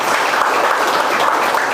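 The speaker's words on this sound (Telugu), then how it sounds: "వారి గట్టిగా మనం చప్పట్లు కొట్టి అభినందనలు తెలియజేయాలి" A close, loud burst of applause from an audience honoring the Lions governor at a clinic gathering, many hands clapping densely and evenly with no pauses.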